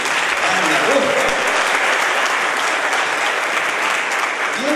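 An audience applauding a string orchestra at a concert, with steady, dense clapping that fills the whole stretch and a few voices faintly underneath.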